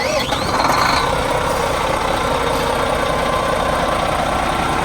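Volvo B11R 450 HP Euro 5 bus engine running steadily at idle, a loud continuous rumble with a brief higher whine at the start, heard up close in the engine bay.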